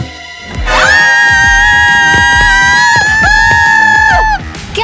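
A loud, sustained high-pitched scream holds steady for several seconds, briefly dips and resumes before cutting off, over a busy background of music and other sounds.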